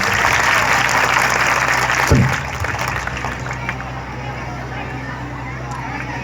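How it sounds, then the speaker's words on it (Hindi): Audience clapping at a martyrs' honour ceremony in Seoni Malwa, a dense wash of applause that is loud for the first two seconds, then drops to a lower, steady patter that continues to the end. "मगर तालियां बजा दीजिए"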